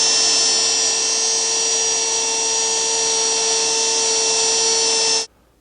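A router fitted with an edge guide and round pads cuts beading on a drawer, emitting a loud, steady high-pitched whine that runs continuously for about five seconds before stopping abruptly.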